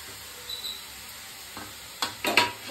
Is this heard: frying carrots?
yes